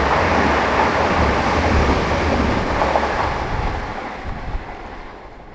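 A train runs out on the Hull to Leeds line near Milford Junction, heard as a steady, loud broadband rumble with wind buffeting the microphone, fading gradually toward the end.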